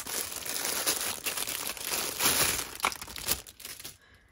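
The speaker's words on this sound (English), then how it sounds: "Excuse the rustling." Plastic packaging crinkles and crumples continuously as gel printing tools for a 6x6 gel press plate are unwrapped, a close, busy rustle with a few sharper crackles, fading out near the end.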